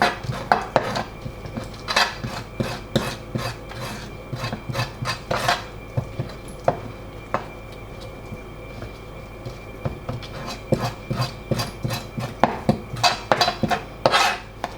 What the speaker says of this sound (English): To remove the sliminess, let's scrape it using the back side of the knife